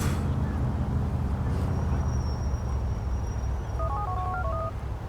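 A phone rings in GTA IV as Roman calls, a short run of electronic tones chirping briefly over a loud, constant traffic and engine roar.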